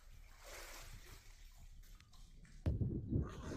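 A bucket on a rope lowered into a rainwater well in Rajasthan, faint hollow trickles and drips echoing inside, then a sudden louder splash and slosh as it hits the water.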